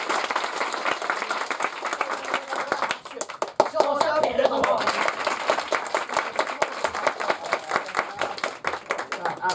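Audience at a Japanese comedy contest clapping steadily for several seconds, a dense patter of many hands at moderate level that swells briefly in the middle.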